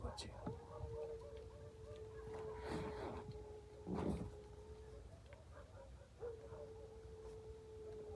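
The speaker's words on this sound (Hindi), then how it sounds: "ये कुत्ते की आवाज़ है।" Dogs barking outdoors at night around a camping car, with bursts of distant barking and animal calls over a steady hum and constant background noise, mixed with some talking.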